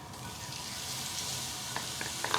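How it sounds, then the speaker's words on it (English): Steak dropped into hot oil in a cast iron pan for fajitas, a steady close sizzle and frying hiss with a few small pops and crackles near the end. "Let's see if it's gonna sizzle."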